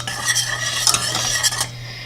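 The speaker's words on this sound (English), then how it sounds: "I'm just going to whisk that in" Powdered allulose being whisked into a keto mixture: a brisk, steady scraping and clinking of a whisk against a bowl, close and continuous for about two seconds with no voices.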